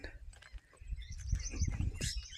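A flock of parrots and other forest birds calling near mango trees before evening rain, with short chirps and squawks over a low rustling background, fairly close and busy.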